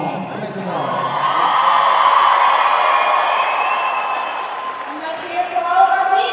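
At a high school competitive cheerleading state finals, the crowd roars in answer to a call for the small teams, with cheering, whooping and scattered claps that swell loudly and then fade.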